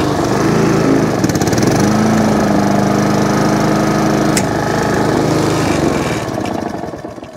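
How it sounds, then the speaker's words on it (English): A Honda HRX476 lawn mower engine runs after a carburetor clean for hunting and surging, giving a loud, steady, close-up buzzing drone that holds even before tapering off near the end. "that's that little Honda lawnmower now all up and running"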